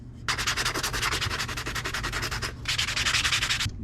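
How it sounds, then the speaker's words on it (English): A sander with 220 grit paper sharpens a wooden blade for an ulu, giving a close, steady, rhythmic scraping in two continuous passes with a brief break between. "For sharpening, I'm going to use this sander here. Got 220 grit, and I'm just going to go down and down."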